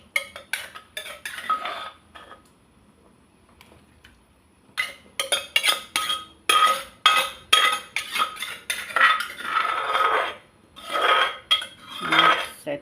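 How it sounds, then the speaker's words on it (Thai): Metal utensils clink and scrape against a pot in bursts as pounded ingredients are added, with a quiet pause early on, then busy stirring and clattering close by. "นำเครื่องที่เราตำมาลงหม้อนะจ๊ะ"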